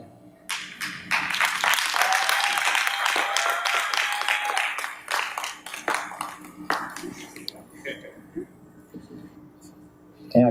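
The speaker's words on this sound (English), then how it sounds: "can we give them the applause?" An audience applauds at an awards ceremony, with a dense burst of clapping and a few whoops over several seconds before it thins into scattered claps and a voice near the end.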